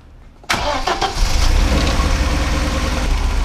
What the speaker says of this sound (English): And with the engine running,